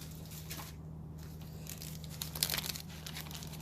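A plastic bag crinkles as new pistol parts for a Smith & Wesson M&P 9 1.0, including the firing pin, are bagged up, giving steady close rustling with a sharper burst of crackling partway through.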